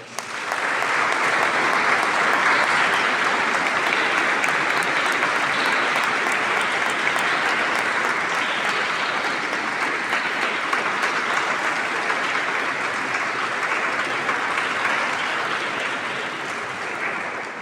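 Dense, sustained applause from a large crowd at a Via Sacra gathering, steady and loud throughout, with no break or fade.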